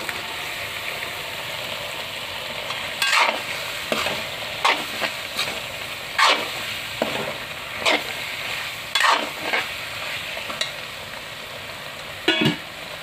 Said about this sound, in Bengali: এখন পটলটা দিয়ে একটু কষিয়ে নেব।